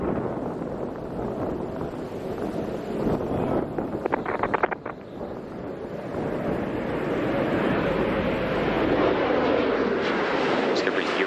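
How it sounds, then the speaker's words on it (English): Space Shuttle Discovery on final approach to Kennedy Space Center, heard as a steady, broad roar of wind and distant air rumble, with a brief cluster of sharp crackles midway, while a voice talks over it. "Space Shuttle Discovery now on final approach to the Kennedy Space Center"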